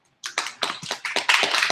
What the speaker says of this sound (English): Now I want applause.